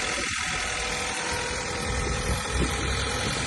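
A car engine idles steadily after being started, its revs lifting slightly toward the end, a continuous close mechanical hum with some vibration and an aging battery noted.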